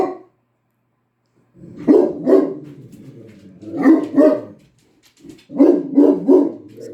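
A dog barks indoors in short, close, loud bursts, two or three barks at a time, with brief pauses and a little whimpering between the volleys.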